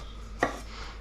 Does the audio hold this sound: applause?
no